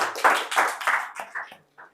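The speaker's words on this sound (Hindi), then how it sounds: "तालियां हो जाने के लिए।" A small audience at a public speaking session claps in short, scattered bursts, about eight distinct claps that thin out and fade within two seconds.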